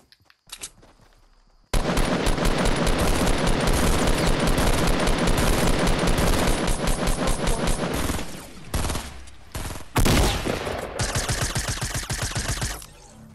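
Rapid bursts of submachine gun fire crackle in a Fortnite-style battle royale, long loud strings of shots broken by brief pauses, then resuming in close, dense volleys.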